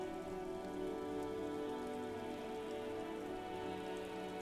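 Steady rain falls over the city streets of Jamrock in the game Disco Elysium, a constant dense hiss of drops on hard surfaces, even in level and unbroken from start to finish, with no voices.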